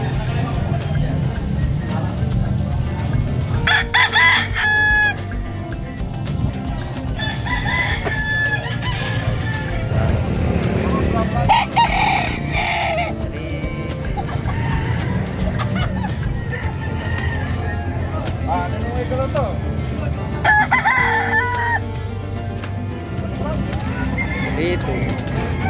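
Fighting roosters crow repeatedly at a busy livestock and pet market in Malasiqui, their calls rising over constant crowd chatter and nearby conversation.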